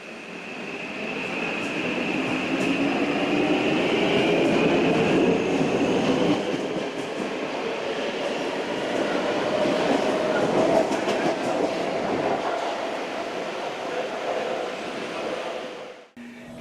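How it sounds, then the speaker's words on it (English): An autonomous MRT subway train in Singapore runs underground with a loud, continuous rumble and rattling wheel noise. A faint high whine rides over it until the sound briefly drops near the end. "MRT trains look like ordinary subways, but they're all autonomous vehicles."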